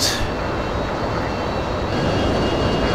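A refueler plane's engine drones in F-22 Total Air War: a steady, loud, broadband jet roar that holds evenly throughout, with no talk over it.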